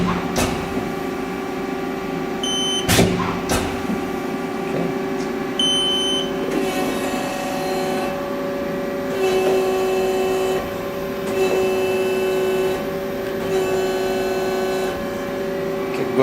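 A Haas ST20 CNC turning center running in reverse, with a steady mechanical hum and whine under sustained tonal beeps and buzzing electronic tones, plus a couple of sharp clicks near the start, with no voices.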